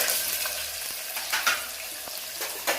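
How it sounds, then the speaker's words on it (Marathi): Curry leaves and onion crackle in oil with cumin and mustard seeds, an even close sizzle with intermittent spatula scrapes and pops, no speech. "आता टाकणार आहोत आपण कढीपत्ता, कांदा"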